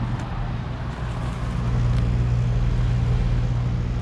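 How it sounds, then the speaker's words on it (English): A 2003 Carrier side-discharge 3-ton heat pump runs steadily, giving a constant low mechanical hum and fan whoosh throughout, slightly louder in the second half. "It's a heat pump and it's actually running this time."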